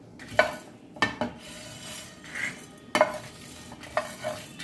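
Spices dry-roasting over medium flame rattle and scrape in a dry pan, with sharp stirring clinks at intervals over a soft sizzle.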